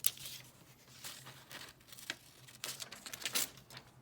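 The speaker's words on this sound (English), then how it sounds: "Oops, I just ripped a leaf with my scissors." Scissors rip a thin paper leaf while cutting out a small paper plant with skinny stems, a quiet run of crisp snips, tearing and crinkling bursts, close and with no talking.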